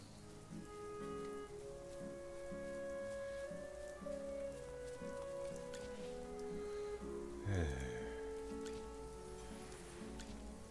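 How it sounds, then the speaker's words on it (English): Continuous rainfall in a video game dungeon forms a gentle even wash behind looping melodic game music, with one brief louder low thump partway through and no talking. "It's raining."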